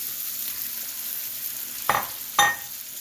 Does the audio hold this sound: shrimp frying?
yes